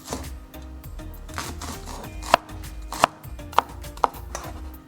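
A knife finely chops shallots on a cutting board while lemongrass chicken is being prepared, giving a few sharp, close knocks spaced about a second apart over softer cutting noises and a low background hum.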